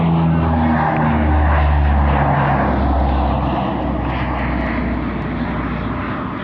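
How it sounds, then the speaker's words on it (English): An Antonov AN-12 Cub turboprop tactical transport of the Russian Air Force drones loudly and close, its propellers giving a steady low throb with shifting engine tones that ease slightly as it passes. "The Russian Air Force still uses 50s of these outstanding veteran AN-12 Cub tactical transports"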